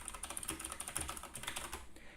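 Rapid, continuous key presses on an Ajazz AK60 mechanical keyboard produce a dense clatter of clicky strokes, close but fairly quiet, with no one speaking.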